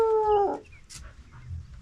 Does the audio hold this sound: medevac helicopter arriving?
no